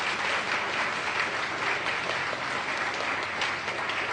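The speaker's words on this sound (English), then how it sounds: "can we get a quick round of applause for all the candidates who put themselves forward for this day?" An audience at a student election results night applauds the candidates, giving steady, continuous clapping at an even level from start to finish.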